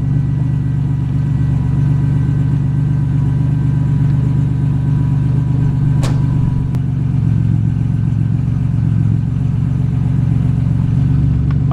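A Buick car engine idles steadily with a low, continuous rumble and faint clatter, close and loud throughout, with a brief sharp click partway through and no talking.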